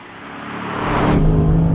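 A 2015 Chevrolet Camaro Z/28 with a 7-litre naturally aspirated LS7 V8 rises in pitch as it revs up, settling into a loud steady drone at the end.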